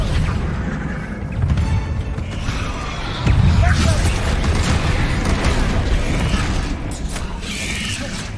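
A Confringo fire spell bursts in Hogwarts Legacy, a loud booming blast with a rumbling, crackling tail over dense, continuous game effects and mechanical clatter.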